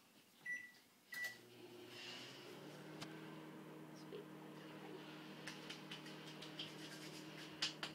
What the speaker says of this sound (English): pop it in your microwave for about 10 seconds